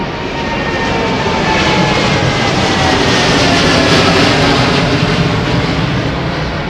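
A Korean Air Boeing 747-8i jet departs Heathrow with a continuous loud, rumbling engine roar that swells slightly and holds steady throughout.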